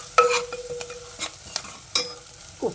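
Ginger-garlic paste and chili powder frying in a pan for a carrot-tomato rasam, a quiet, soft sizzle broken by a few sharp scrapes and taps of a stirring spoon.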